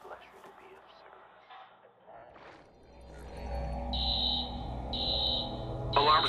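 An alarm trips in a stealth video game, with a repeating high electronic tone in steady pulses starting partway through, layered over a low rumbling drone after earlier quiet movement and faint voices.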